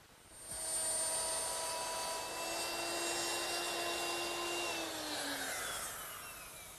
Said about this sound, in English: So now I'm ready to plow out all those recesses.